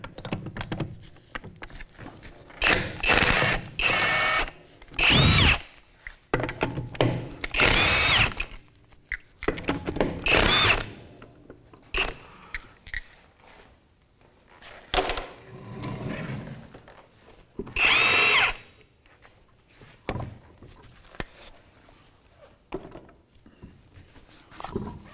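A power tool fitted with a 17 mm socket spins off the lug nuts on the rear wheel of a 2007–2013 Mitsubishi Outlander, sounding in loud, separate whirring bursts with quiet gaps and clicks between them.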